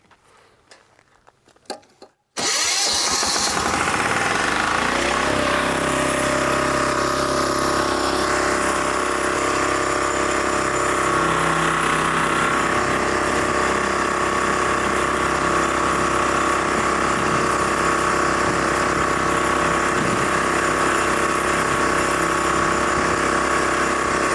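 A Kentavr 2010DE diesel walk-behind tractor roars up to full throttle after a few quiet seconds of light handling noise, then holds a loud, steady, close-up diesel drone with a rattling clatter while it drives.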